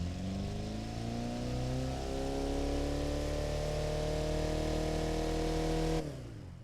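A 2.0L engine revving on a dyno in the game Automation, with a soft, restrictive-exhaust note, climbing steadily in pitch over about six seconds before cutting off abruptly and leaving a brief decay.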